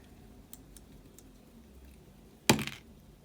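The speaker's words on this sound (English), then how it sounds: "So I'm just going to roll a dice to see how many of them we're actually going to use." A die rolls onto a hard surface during a tarot and charm card reading, landing in one sharp clatter with a brief rattling tail after faint ticks in an otherwise quiet room.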